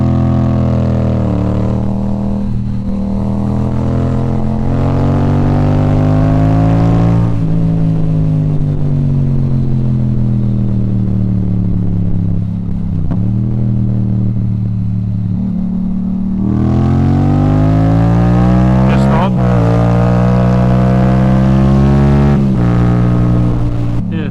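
Yamaha MT-07 motorcycle being ridden, a loud, close engine drone that holds steady, dips as it slows near the middle, then rises again as the rider accelerates, with wind rush over it.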